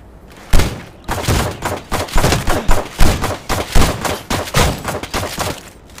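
Repeated shotgun blasts and gunfire in a battle royale video game firefight, a dense run of loud, punchy shots and thuds firing in rapid, uneven succession for several seconds.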